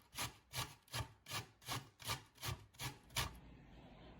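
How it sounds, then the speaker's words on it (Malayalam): An onion rubbed against a kitchen grater while preparing a potato and onion snack: about eight steady, rhythmic scraping strokes at close range, fairly quiet, ending in a soft trailing rasp. "ഇനി നമുക്ക് നമ്മളെ ഒനിയൻ ഒന്ന് ഇത് പൊട്ടറ്റോ ഗ്രേറ്റ് ചെയ്ത പോലെ തന്നെ ഗ്രേറ്റ് ചെയ്തെടുക്കാം."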